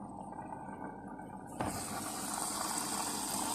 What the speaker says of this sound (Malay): Ah, ni washing machine saya ni.